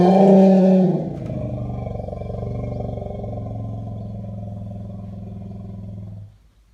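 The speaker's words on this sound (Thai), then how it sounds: "ก็ให้ชมปฏิกิริยาของช้างนะครับ" An agitated, angry elephant lets out a loud, close roaring blast that settles into a long, deep rumbling growl lasting several seconds before stopping abruptly, with no one talking.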